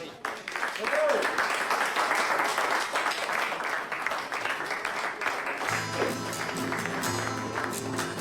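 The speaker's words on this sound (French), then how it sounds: "s'il vous plaît, on applaudit tous Marie" A live audience claps for Marie during a stage performance: a full, steady patter of applause, fairly close, with a sustained tonal sound entering underneath in the last few seconds.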